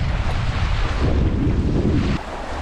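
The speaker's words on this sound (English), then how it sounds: "The wind has really kicked up, so we're in a lake." Strong wind over a lake with whitecaps blows as a loud, steady broadband roar with heavy microphone buffeting and lapping water beneath, easing slightly near the end.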